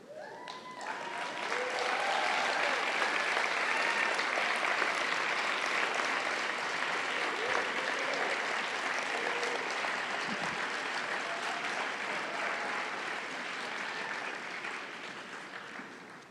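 Sustained applause from a graduation ceremony audience, steady and full for about sixteen seconds, building quickly at the start and tapering slightly near the end, with no talk over it.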